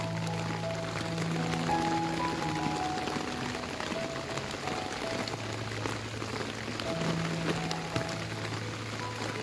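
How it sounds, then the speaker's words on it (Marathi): Steady rain falls over rice paddy fields at the start of the planting season, a continuous, even hiss with no pauses across the whole stretch. "पाऊस पण चालूच आहे"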